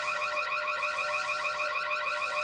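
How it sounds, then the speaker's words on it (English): A soundboard alarm effect rings out as a steady, loud, rapidly warbling electronic siren that holds unbroken and alone with no voices over it. "Do the alarm thing quickly."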